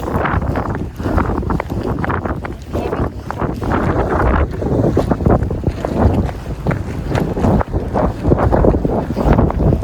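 Strong gusty wind buffets the microphone outdoors in cold weather, a loud, continuous rumbling roar with uneven surges and no clear voices.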